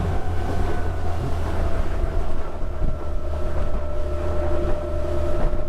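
An electric Vita Lion sportsboat cruises at around 20 knots, giving a steady, continuous low hum of the hull on the water with heavy wind buffeting across the microphone and no voices.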